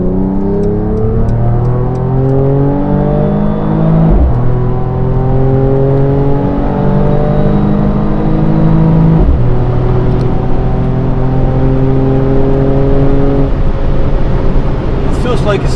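A 2021 Mercedes-AMG E53 convertible, roof closed, cruising at very high speed above 180, with a loud steady engine drone and road roar; the pitch climbs in rising gear steps and drops sharply at two shifts.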